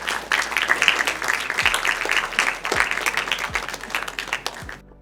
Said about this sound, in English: Doctor deserves a bigger round of applause